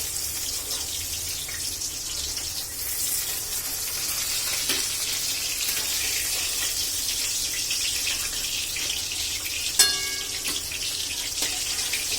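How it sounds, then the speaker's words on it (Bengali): Hilsa fish pieces fry in oil over a gas flame for a monsoon-season hilsa and eggplant dish. A steady, even sizzling hiss runs throughout, with a brief metallic clink near the end and no talking. "দেখো মাছটা অলমোস্ট ভাজাই হয়ে গেছে।"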